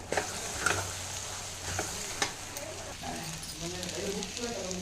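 Poha (flattened rice) gets mixed in a hot pan, a soft continuous sizzle with scattered scraping and tapping of the spoon, while a person talks over it toward the end.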